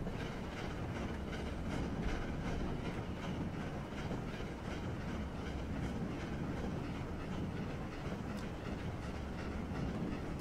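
A locomotive runs on the GAD West of England Mainline in the Train Simulator game, giving a steady, dense rumble of wheels on rail with faint rhythmic clatter and no breaks.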